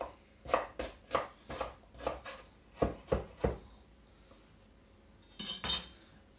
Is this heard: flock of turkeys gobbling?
no